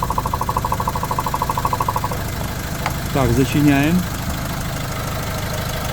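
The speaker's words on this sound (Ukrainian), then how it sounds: "Чиста робота двигуна" A 2017 Renault Master van's diesel engine idles with a steady, knocking chug, close by; someone speaks briefly over it midway.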